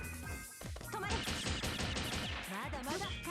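Gunshot attack in the fighting video game Melty Blood, a burst of sharp repeated gunfire-like hits and crashes layered with game effects, fairly loud and dense.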